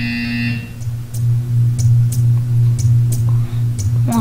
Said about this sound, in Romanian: You will hear a buzzer. When you hear the buzzer, stare at the arc.